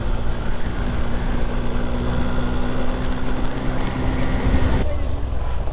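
A group of seven or eight Yamaha motorcycles rides along the Sylhet highway, heard as a steady, loud roar of engine and wind buffeting with a faint humming tone, continuous throughout.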